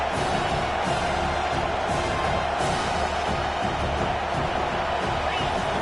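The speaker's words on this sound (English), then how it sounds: "Decibels rising as the crowd gets behind this defense on 3rd down." Stadium crowd roaring steadily for the home football defense on third down, a dense, continuous wall of cheering and whoops, loud and sustained throughout.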